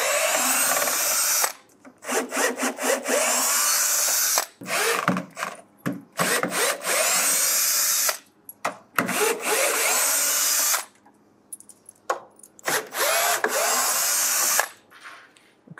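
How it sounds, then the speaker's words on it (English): A power tool fitted with a 10 mm socket drives out hardware screws from the shipping skid of a PHCbi VIP ECO ultra-low freezer, in loud repeated whirring bursts separated by short pauses. "So the tool that I'm using here is a 10 millimeter socket."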